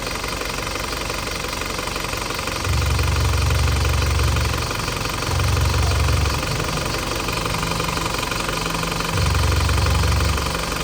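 A 2005 Isuzu Panther LS Turbo diesel engine idles steadily with a low, knocking rumble, swelling louder in three repeated bursts as if briefly revved, with no talk over it.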